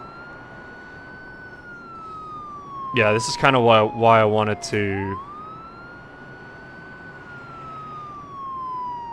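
A police car siren in a first responder simulator game wails, sweeping steadily up and down throughout, with a person speaking briefly over it midway; it has a slightly synthetic, game-like tone.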